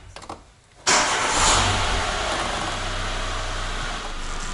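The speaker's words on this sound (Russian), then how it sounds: "Сейчас мы машину запустим." A car in a repair shop, brought in for a clutch pedal fault, cranks briefly and fires up, its engine settling into a steady, loud idle close by.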